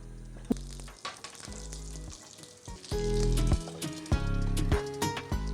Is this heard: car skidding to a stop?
no